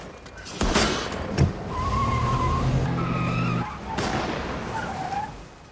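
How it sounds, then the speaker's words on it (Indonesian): A car from the film Civil War speeds off under gunfire, tires screeching in long squeals over a loud, revving engine, with sharp bangs breaking in; near and intense, no talk. "mobil mereka pun ditembaki oleh seseorang yang membuat Joel tancap gas dan menyembunyikan mobilnya"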